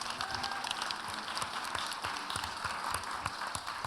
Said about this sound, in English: let's say thank you very much to them with a big round of applause